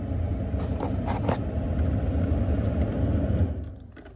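A VW Passat engine running with the ignition on: a steady, low, close rumble with a few faint clicks, fading near the end.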